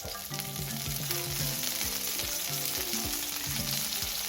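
Fish and curry leaves shallow-fry in coconut oil over a medium flame, giving a loud, continuous close-up sizzle with repeated scraping strokes of a utensil in the pan throughout.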